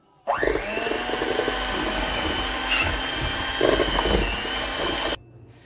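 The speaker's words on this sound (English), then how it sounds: "Now I'm going to go in with my hand mixer." A hand mixer creams butter and brown sugar for a Christmas fruit cake, a loud close motor whine starting abruptly and running steadily for about five seconds with slight rises in pitch before cutting off.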